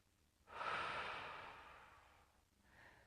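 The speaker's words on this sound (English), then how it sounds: "Big breath, breathe out." One deep, long exhale during a postnatal Pilates exercise, close and soft, swelling quickly then trailing off gradually, followed by a faint shorter breath.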